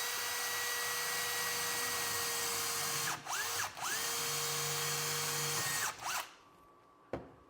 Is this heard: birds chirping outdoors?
no